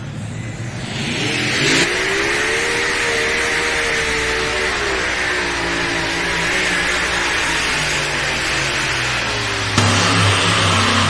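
Modified race cars roar around a track, engines loud and close, revving and shifting pitch as they pass, with a fresh surge of engine noise near the end.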